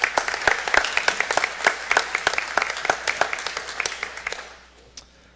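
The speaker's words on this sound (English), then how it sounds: "round of applause for these guys." Audience applause at a Board of Education meeting, a dense round of many hands clapping that stays steady and fairly close before tapering off and fading out near the end.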